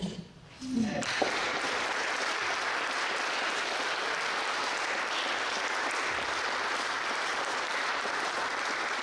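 Sustained applause from an audience at a poetry event for two poets, dense steady clapping that swells in after a brief quiet moment and holds loud and even to the end.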